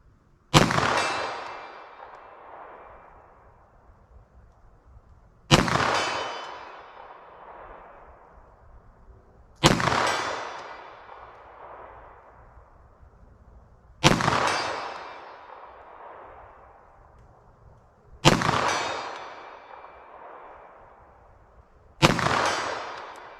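Six loud 9mm pistol shots of Federal Punch ammunition, spaced roughly every four seconds, each a sharp crack with a long ringing decay, heard alone outdoors at a range.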